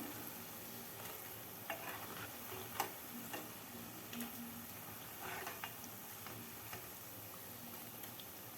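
Spicy fritters made from idli batter frying in oil produce a faint, steady sizzle with a few soft clicks and taps from the utensil, heard close and quiet without talk.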